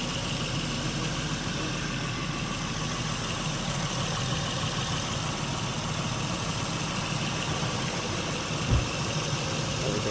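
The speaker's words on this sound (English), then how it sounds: "After the spark plug change, this is how the engine sounds." An Acura TL engine idles right after a spark plug change, a steady, even hum with constant vibration that holds for about ten seconds with no talking.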